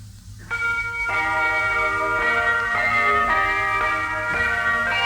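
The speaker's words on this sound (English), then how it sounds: "There are really 206 bells on the table. The 4 boys playing the entire set." Four men play a tune on a large set of handbells: a melodic series of clear, ringing struck tones that overlap and sustain, steady and fairly loud, with no talking.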